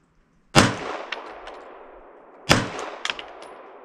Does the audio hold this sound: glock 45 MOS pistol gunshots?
yes